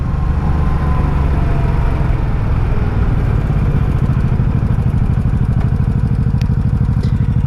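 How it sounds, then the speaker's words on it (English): A 1984 Honda Shadow VT700C motorcycle idles loud and close, a steady pulsing rumble with a fast ticking clatter of noisy valves running throughout. "I think the valves are a little noisy on this thing."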